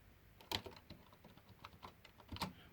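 Typing on the keyboard of an Apple eMate 300 in a text editor, a quiet run of irregular plastic key clicks with a few sharper, louder strokes, close by and with no talk.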